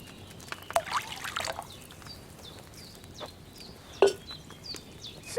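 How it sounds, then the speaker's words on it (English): Wine base pours from a pitcher into a cauldron in Kingdom Come: Deliverance II, soft trickling splashes in short bursts against a quiet backdrop with faint bird calls. "you have to pour the right base into the cauldron"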